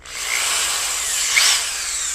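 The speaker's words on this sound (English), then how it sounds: "So now I'm going to drill this hole here." An electric drill whirs steadily at high speed for a couple of seconds, with a brief louder grinding bite partway through.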